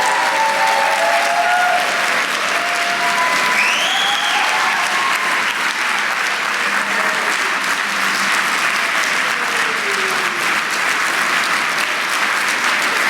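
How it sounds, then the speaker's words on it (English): An audience applauds the Eisenhower Fellowships staff in a dense, steady wash of clapping that fills the room and holds at an even level from start to finish, with faint whistles or calls mixed in. "You're going to have to applaud them again in a second"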